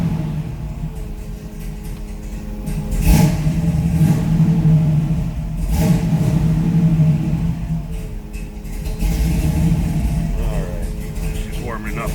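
1967 Chevrolet Camaro RS V8 idling with a deep rumble, blipped up in several swells of revving, loud and close, with a person talking faintly over it.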